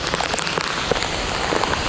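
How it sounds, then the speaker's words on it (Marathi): Heavy monsoon rain driven by strong wind on a Mumbai street makes a dense, steady hissing roar of water pelting surfaces, loud and close with no letup. "जोरात हवा आहे आणि पाऊस पण तेवढाच आहे."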